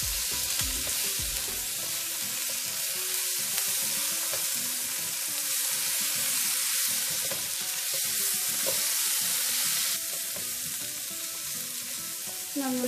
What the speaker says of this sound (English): And 1 spoon of garlic and ginger paste. Okay. Just saute it for a few minutes.